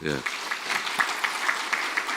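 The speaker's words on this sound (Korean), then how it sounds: "박수 한번 해주세요." A church congregation applauds after a mission group and a praise band are thanked. A brief voice comes first, then steady clapping of moderate loudness fills the rest of the moment.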